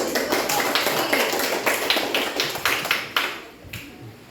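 A small group in a classroom claps hands together, a dense patter of applause that thins out toward the end, with some voices mixed in.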